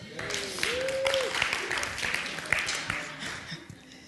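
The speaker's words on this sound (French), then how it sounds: "Merci, on l'applaudit." A congregation applauds during a French-language church service, producing steady clapping mixed with voices, with a drawn-out vocal tone near the start.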